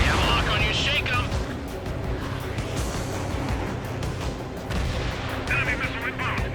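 Heavy gunfire and booming explosions in the Ace Combat 7: Skies Unknown aerial combat video game, a dense continuous barrage with rapid bursts throughout, loud and close, with radio chatter over it.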